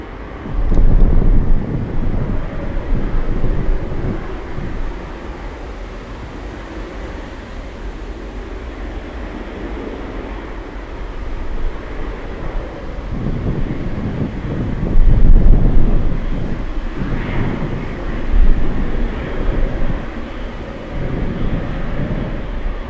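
Korean Air cargo 777 taking off for Chicago from Anchorage runway 15 in gusty wind, a steady broad jet roar with heavy wind buffeting on the microphone, swelling in loudness near the start and again around the middle.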